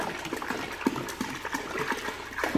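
Water is emptied from a container into a tin of paint to thin it, making a steady, close gushing and splashing with small gurgles throughout.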